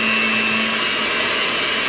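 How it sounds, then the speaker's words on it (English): Electric hand mixer whirring steadily as it beats a gingerbread dessert dip with confectioner's sugar, a loud, constant, high motor hum close by and nothing else. "I'm going to use my hand mixer for this, which I have right here."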